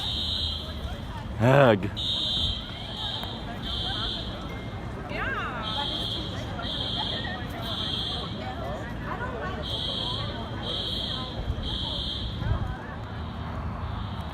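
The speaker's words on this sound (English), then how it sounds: "the alarms have been blaring for about 15 minutes" A college dormitory fire alarm blares in repeated pulsing electronic beeps, steady and insistent throughout, while people talk and move nearby and a brief loud groan cuts through.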